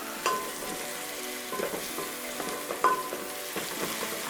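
Garlic and onions frying in a pan for a matoke dish with peanut sauce, a steady close sizzle broken by a few sharp scraping stirs, no talking.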